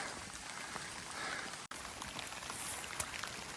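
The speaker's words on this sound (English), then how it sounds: "I can see there's getting to be a few raindrops on the lens." Rain falling on a wooded Appalachian Trail section, with light, scattered drops ticking close on a phone camera lens over a faint, steady patter.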